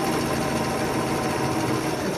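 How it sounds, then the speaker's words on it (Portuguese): A sewing machine runs steadily as it stitches fabric for a knitted-style hat, a continuous close mechanical whirr with a fast rhythmic pulse. "nós vamos passar uma costurinha aqui"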